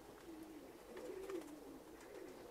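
Serbian white high-flying pigeons coo softly in a loft, low throaty rolling calls repeating against a faint steady background.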